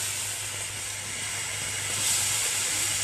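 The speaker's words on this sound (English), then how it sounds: "this is a Russell Hobbs, not bad. You know, it gives okay steam." A Russell Hobbs steam iron releases a steady, close hiss of steam that holds for several seconds and swells slightly toward the end, with no talk over it.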